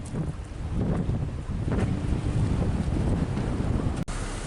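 Steady gusting wind by a lake roars against the microphone throughout, a thick outdoor rush broken by a brief click near the end.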